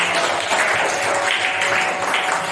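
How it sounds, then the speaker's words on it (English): A primary girls' school classroom, third standard, breaks into steady applause for a pupil, a continuous even patter of many small hands clapping throughout, with no talking over it. "Clap for Arham."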